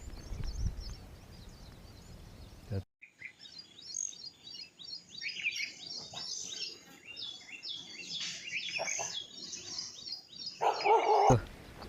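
Birds chirp and call in the distance, then a peacock's loud, shrill wailing call rings out near the end.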